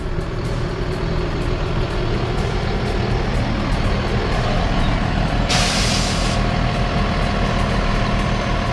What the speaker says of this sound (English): I love the sound of air brakes in the morning.